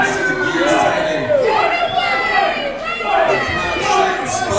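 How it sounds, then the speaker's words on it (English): A wrestling crowd chants a wrestler's name in a loud, repeated, rhythmic call, a few cycles of cheering voices rising and falling together. "The crowd shouting, Spike! Spike! Spike!"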